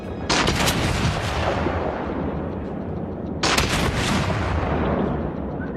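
Naval artillery in World of Warships from a Colorado battleship: two heavy, booming salvos about three seconds apart, each a loud broadband blast that rolls off into a long rumbling tail.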